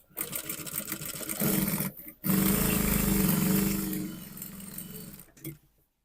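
A sewing machine stitches the back of a milkmaid dress in two sustained runs of steady mechanical whirring, close and fairly loud, separated by a brief pause and stopping near the end.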